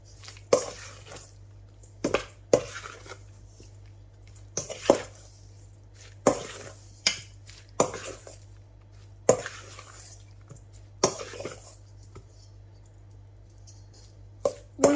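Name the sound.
mixing chopped garlic into chicken tikka marinade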